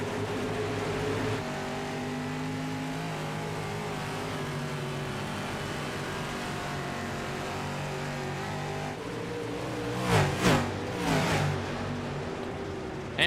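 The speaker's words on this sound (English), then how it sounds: "Green flags out as the field steps on the loud pedal." Dirt late model race cars in the iRacing video game, engines droning together at a steady pitch before a couple of louder roaring surges near the end.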